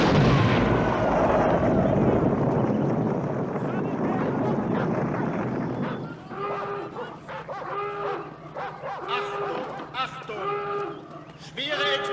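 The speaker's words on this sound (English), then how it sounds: "Schwere Explosion im Abschnitt 1" A heavy explosion in a Second World War film set at a border post: a loud, sustained broadband rumble that slowly fades over about six seconds, followed by quieter voices and background activity.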